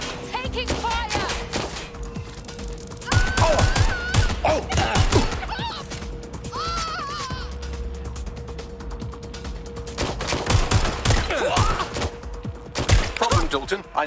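Gunfire in the video game Watch Dogs: Legion, loud close bursts of rapid mechanical clattering shots in irregular volleys with a steady hum beneath and brief voices mixed in.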